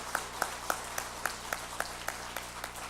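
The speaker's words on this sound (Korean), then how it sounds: "우리 하나님께 큰 영광의 박수 드리고요." A church congregation claps in unison, giving about ten sharp, evenly spaced beats over a faint background, like rhythmic applause at a New Year's service.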